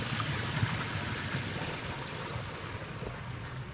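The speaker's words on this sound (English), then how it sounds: "It's a tiny waterfall here." A tiny waterfall at a Japanese village near Mt. Fuji gives a steady soft rush and splash of falling water, even and continuous, moderately close, with no talking.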